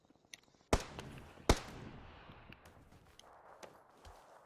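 Distant gunfire in the PUBG video game: two sharp, loud cracks in quick succession, followed by a few fainter pops and muffled shots trailing off in the background.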